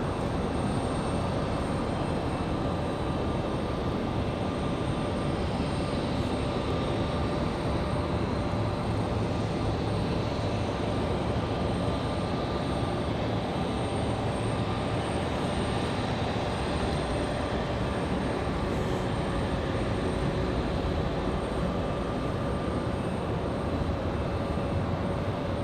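A plane touching down at Raleigh-Durham International Airport, heard as a continuous broad engine roar with a faint steady whine, loud and unbroken throughout with no voices.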